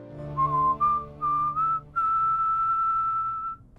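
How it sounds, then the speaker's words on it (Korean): A person whistles a short tune in a prison cell: a few clipped notes, then one long sustained note, clear and fairly close with a faint echo. "방에서의 휘파람이 온 교도소에 울려 퍼지다니"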